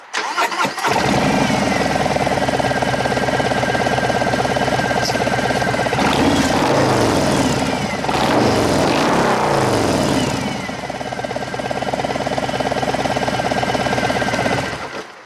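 A 2019 Harley-Davidson Road Glide Special fitted with Mutazu 4.5-inch slip-on exhausts cranks and fires, settling into a loud, close, loping idle with a brief throttle blip mid-way.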